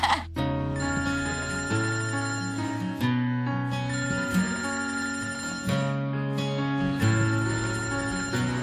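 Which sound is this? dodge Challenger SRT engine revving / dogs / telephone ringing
telephone ringing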